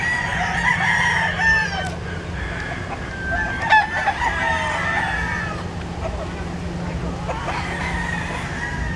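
An F1 Kit Cariel Gold gamefowl rooster from Mississippi crows loudly and nearby, mixed with clucking from other fowl, over a steady low background hum.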